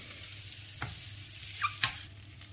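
Eggs frying slowly in a pan for a dhaba-style egg curry, a faint, even sizzle broken by two short clinks as they are turned, no talking.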